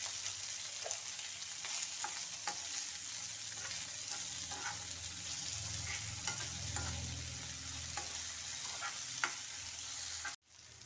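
Carrot mezhukkupuratti stir-fry is stirred in a pan with lemon juice added, giving a steady close sizzle under soft scraping strokes of a spoon. It runs alone without talk and cuts off briefly near the end.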